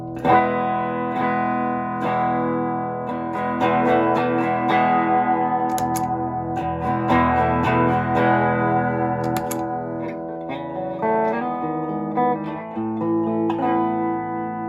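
Electric guitar playing a melodic phrase with chords and single notes through a high-pass filter set at 190 Hz, its tone thin and bright with the low end stripped away, alone without talk.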